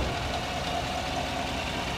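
A 2014 Chevrolet Silverado pickup idles with a steady, even low rumble, close and continuous with no voices.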